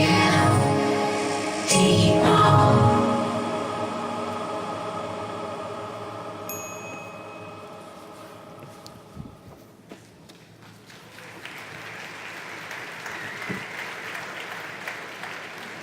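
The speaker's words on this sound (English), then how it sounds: "Give a huge applause to Markus Beckedahl." A conference audience at re:publica 2019 claps loudly at first, then the applause thins and fades over several seconds, leaving footsteps and quiet room noise.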